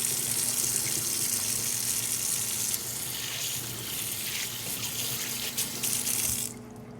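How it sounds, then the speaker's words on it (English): Tap water runs steadily into a kitchen sink as hands are washed after handling kale, a continuous close hiss that briefly shifts partway through and cuts off near the end. "I'm gonna go ahead and wash my hands again after handling that kale."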